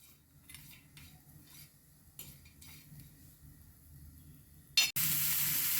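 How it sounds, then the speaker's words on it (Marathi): Grated coconut being fried in a pan: quiet clinks of a spoon stirring against metal come first, then a sudden loud, close sizzle breaks out near the end. "आता आपण खोबरं फ्राय करून घेणार आहोत"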